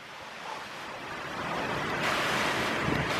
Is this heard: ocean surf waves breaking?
yes